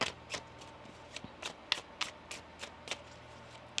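Crisp, rapid riffling of a tarot card deck being shuffled, several quick bursts of flicking cards close by in a quiet room.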